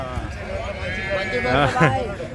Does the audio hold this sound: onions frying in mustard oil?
no